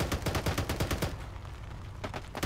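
Automatic and rapid gunfire from the military shooter game Arma 3, a dense rattling burst of close shots for about a second, then a pause and a few more shots trailing at the end.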